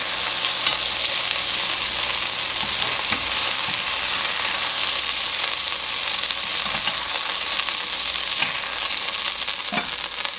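Chunks of beef for a steak and Guinness pie sizzle and fry steadily in a hot pan, a continuous loud crackle with occasional stirring clatters and no talking.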